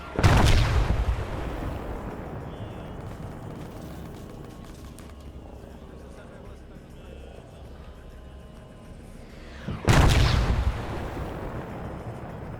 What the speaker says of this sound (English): There's another missile.